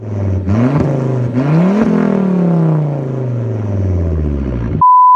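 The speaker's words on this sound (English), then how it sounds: "one of the greatest automotive engines in history, Volvo's 5-cylinder, which is incredibly reliable, very tunable, and sounds juicy" A Volvo five-cylinder car engine revs up loudly in several rising bursts, then winds down in a long, falling drone, and a short electronic beep sounds at the very end.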